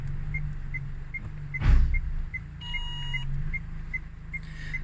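A car reverses slowly during parallel parking, its engine humming low and steady under a regular series of soft reversing beeps, with a brief louder thump partway through and another short tone pattern later.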